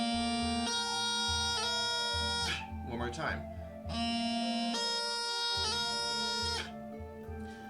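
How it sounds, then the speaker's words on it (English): A bagpipe climbs from low A to high A, each note ornamented with a slow doubling over steady loud drones, played twice with a short spoken break between runs. "So if I was going to play from low A up to high A with the doubling, it's going to sound like this"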